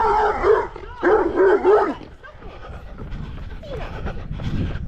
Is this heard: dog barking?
yes